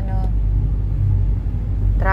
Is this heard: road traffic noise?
yes